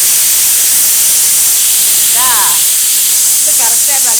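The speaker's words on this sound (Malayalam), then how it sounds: "ഇത് കറക്റ്റായിട്ടാണ് കുക്കർ കറക്റ്റ് സമയത്ത് മ്യൂസിക് ഇട്ട് തന്നു" Pressure cooker whistle shrieking as steam vents while sambar cooks, a loud sustained hiss filling the whole stretch with faint rising tonal chirps near the end.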